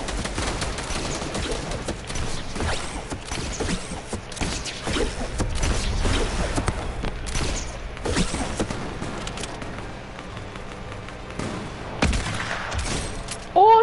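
Sustained bursts of video game gunfire during a base takeover fight, dense rapid shots continuing throughout at steady moderate loudness, with voices talking occasionally underneath.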